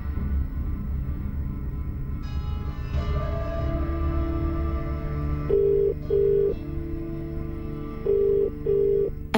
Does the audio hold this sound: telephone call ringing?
yes